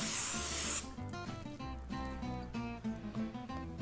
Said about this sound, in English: I like to spray the top with a little bit of olive oil